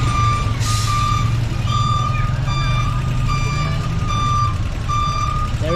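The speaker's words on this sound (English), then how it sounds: "there is this big truck is trying to reverse and come back a bit" A big truck reverses in traffic on a street in Cape Coast, Ghana, its reversing beeper sounding in a steady repeated series over a loud engine rumble and ambient traffic.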